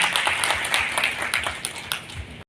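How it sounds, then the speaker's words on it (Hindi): An audience at an award ceremony in Jaipur claps loudly and steadily for about two seconds, dense applause filling the hall before it cuts off. "उसके लिए जोरदार ताली"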